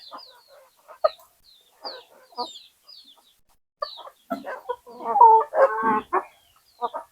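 Free-range desi chickens on a farm cluck in short, scattered bursts close by, with a louder run of calls near the middle and quiet gaps between.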